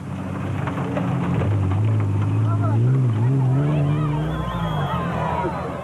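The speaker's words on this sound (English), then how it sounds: "the Weichels, who were rattling through the Botswana bush on their desert bash" Rally car rattling through the Botswana bush in the 2006 Toyota 1000 desert race, its engine a steady loud drone with rising and falling revs, rough rumble and background noise throughout, with no clear speech.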